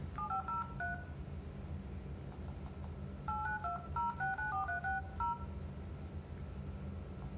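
Dial tones from a Redmi Note 4 running Android 10 as a call is placed: two quick bursts of short keypad beeps over a faint steady hum, with silence between.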